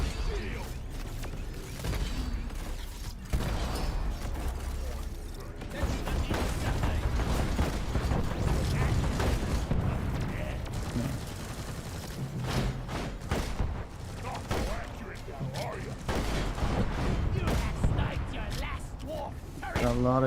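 Turrets fire in the sci-fi mining game Deep Rock Galactic, a dense stream of booming, thumping shots and mechanical clatter that continues for the whole stretch, with a voice briefly audible beneath.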